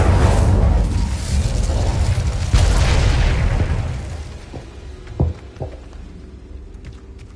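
A fire spell erupts in Hogwarts Legacy with a loud, sustained roaring whoosh that fades over several seconds, followed by a couple of sharper crackling pops near the end.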